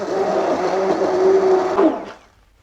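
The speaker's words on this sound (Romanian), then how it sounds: "Luăm mixerul de mână, blenderul și începem să le trecem prin blender" A hand blender whirs steadily as it mixes honey and egg yolk for homemade baked-apple ice cream, a close, continuous motor drone that cuts off near the end.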